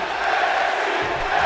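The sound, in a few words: crowd chanting NXT in WWE 2K22 video game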